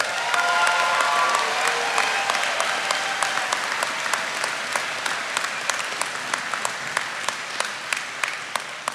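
Audience applause at the Apprentice School Class of 2022 graduation ceremony, a dense steady clapping from a large crowd that gradually thins into scattered individual claps toward the end.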